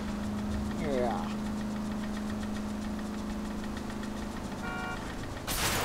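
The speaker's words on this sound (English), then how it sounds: "It's making a very, very concerning clicking noise." A steady, rough car engine in L.A. Noire idles and chugs with a faint repetitive clicking, while a voice speaks briefly over it; a sharp noise bursts at the end.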